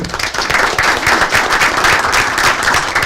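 Audience applause at a school board meeting, a dense burst of many hands clapping at close range, loud and sustained for a few seconds.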